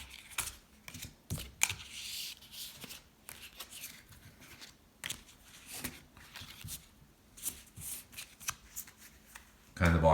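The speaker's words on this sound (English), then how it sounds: "Kind of awkward to shuffle your cards with one hand" Playing cards being shuffled in repeated quick riffling bursts, close by, with short pauses between shuffles and occasional handling noises.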